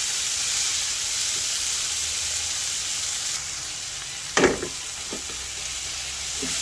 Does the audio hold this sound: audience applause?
no